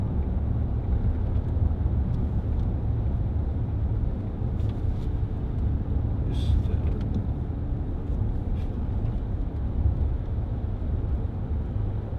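A 2010 Range Rover Sport 3.6 TDV8 HSE is heard from the cabin while driving on a bumpy road, with a steady low engine and road rumble and a few faint knocks.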